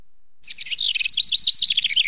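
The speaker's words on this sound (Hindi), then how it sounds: "ओए, चिड़िया तो आ गई।" A cartoon bird chirps in a rapid, bright run of high tweets that start after a short silence and continue steadily, close and clear with no talk.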